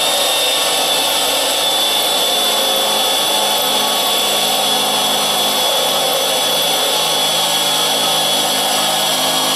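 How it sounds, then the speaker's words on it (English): A German-made cobalt spur point drill bit grinding into a boron steel spot weld, a loud, steady, high-pitched power-drill whine that holds unbroken throughout, with no voices. "This is that little spur point drill. This is actually a harder bit. It's a cobalt bit."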